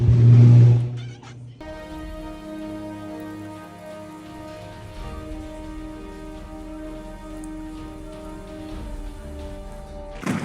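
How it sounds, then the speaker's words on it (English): Steady rain patters on surfaces at moderate volume, with a loud close yowl at the start and tonal humming lines running underneath. "Just filming the rain until lightning strikes right near your house."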